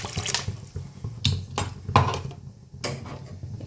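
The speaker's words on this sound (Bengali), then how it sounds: "আমি 2 বাটি মতো জল দিলাম" Water splashes into a cooking pot for a ghugni curry in several uneven bursts, with light clinks of a bowl against metal and no talking.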